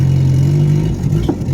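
Honda Civic fitted with an F23A engine running at partial throttle, a steady mid-pitched engine drone that holds fairly loud and close, then wavers and stumbles slightly near the end.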